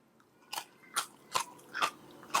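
Five sharp, close crunches ring out at a steady pace as someone bites and chews crispy pata, deep-fried pork knuckle, in a quiet setting.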